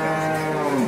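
A cow at the Prambanan cattle market in Klaten gives one long, loud, close moo that fills the whole moment.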